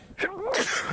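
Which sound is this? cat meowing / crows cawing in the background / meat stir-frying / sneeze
sneeze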